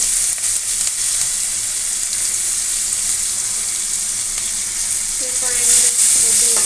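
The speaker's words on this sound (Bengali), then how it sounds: "এখন পাট শাক রান্না করার জন্য পেঁয়াজ কুচিগুলো ছেড়ে দেবো" Chopped onions sizzle and fry steadily in hot oil for a jute leaf dish, a continuous close crackle with occasional stirring scrapes and clinks near the end.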